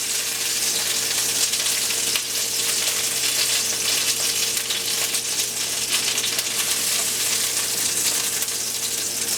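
Seasoned chicken browning in a pan before baking with rice, giving a loud, steady, close sizzle and crackle throughout with no talking.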